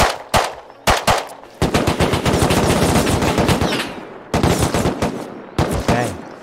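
Loud, close bursts of automatic AK rifle fire in the survival video game Rust, rapid repeated shots in several sustained strings separated by brief pauses, with no talking.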